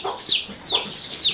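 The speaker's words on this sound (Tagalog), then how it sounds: "Yung anak ng manok na to, kung saan-saan sila nagpupunta." Chickens and their chicks clucking on a rural farm in the Philippine countryside, three short close calls spaced evenly, fairly quiet, with no talk.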